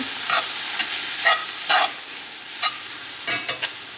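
A pan of browned ground beef with taco seasoning stirred by spoon: soft sizzling with a series of scraping strokes against the pan, close and alone.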